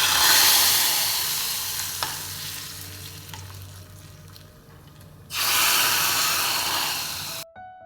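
Tempering fried in oil is poured into rasam and sizzles loudly, hissing that slowly fades, then flares up again in a second strong burst before cutting off abruptly.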